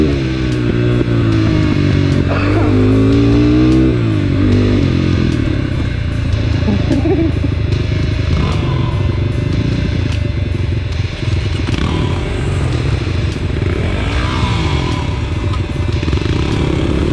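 A GPX FSE250E dirt bike ridden hard on a Village Creek trail, its engine loud and close throughout, revving up and down with throttle blips, clattering and thumping over rough ground without a break.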